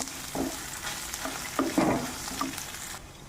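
Urad dal, garlic and dried red chillies roast in a pan for a red capsicum chutney, with a steady dry sizzle and soft scraping stirs, close and continuous.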